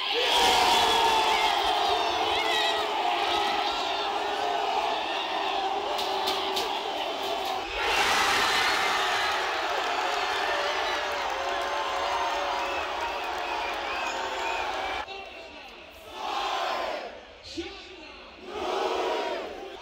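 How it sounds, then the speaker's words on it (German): Football fans in the Berlin fan zone during Euro 2024 roar and cheer as a massive crowd, loud and sustained, then the noise drops and surges again in waves near the end. "Die Fans sind bereit, stehen jubelnd auf der Fanzone in Berlin."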